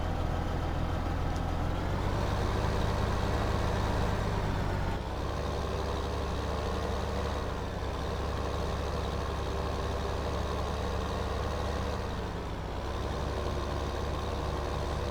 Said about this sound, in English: let's go ahead and use Chris's tractor today